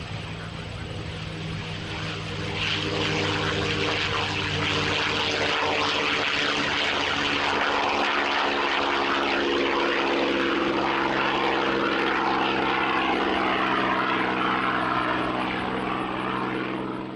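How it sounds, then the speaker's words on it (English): A propeller airplane engine drones loudly and steadily, a thick continuous roar with a rising surge partway through, sustained with no voices. "The same goes for a propeller on an airplane."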